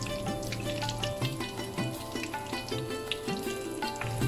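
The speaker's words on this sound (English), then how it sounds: "Fry all these spices together in ghee for about 10 seconds" Spices frying in hot ghee, a steady crackling sizzle holding throughout with light clinks and stirring sounds, fairly close and moderately quiet.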